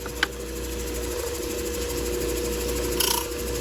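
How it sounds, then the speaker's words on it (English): A Diamond Pacific Genie trim saw cutting stone gives a steady, loud mechanical drone with a fixed hum, a sharp tick near the start and a brief brighter rise toward the end, with no talk. "Yeah, that's a fine trim saw."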